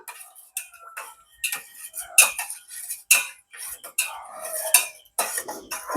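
A metal spoon clinks and scrapes rapidly against the inside of a cup, stirring jelly sherbet, with irregular ringing taps, close up.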